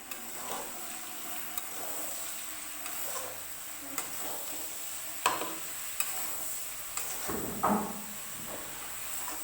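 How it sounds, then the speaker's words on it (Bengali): Mustard greens being stirred with chicken and spices in a pan, Nepali-style, quiet sizzling under a string of sharp spatula taps and scrapes that come at irregular intervals. "এই দেখুন এখানে আমি ভালো করে শাকটাকে নেড়ে চেড়ে মাংস এবং মশলার সাথে মিশিয়ে নেব।"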